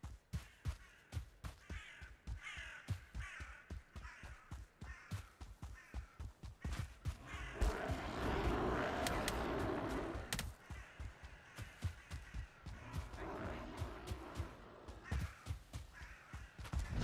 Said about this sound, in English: we hear crows